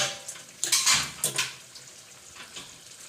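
Water is poured into a pan of cooking chicken chilli, giving a short splashy gush with faint metallic pan knocks. It fades into quiet kitchen background within a couple of seconds.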